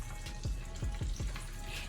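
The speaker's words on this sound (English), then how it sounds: "Let these others fry up." Breaded mozzarella sticks deep fry in hot oil with a dense, continuous bubbling sizzle, broken by a few soft knocks, close and steady throughout.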